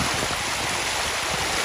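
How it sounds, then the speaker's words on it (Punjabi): Water released from Mangla Dam rushes in a steady, loud, broadband roar, a continuous flow heard up close without any voices. "ਇਹ ਆ ਮੰਗਲਾ ਡੈਮ ਦਾ ਪਾਣੀ"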